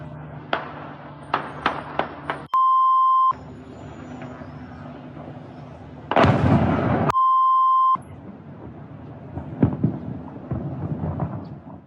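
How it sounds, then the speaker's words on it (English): Explosions from a drone strike on an electronics factory in Penza ring out as a series of sharp distant blasts, several close together early on, then a louder rumbling burst, with a loud tone interrupting twice. "11 explosions were heard in Penza."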